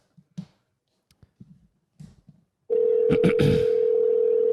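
A few soft indistinct sounds, then a steady loud electronic ringback tone begins and holds, with brief clicks layered over its start.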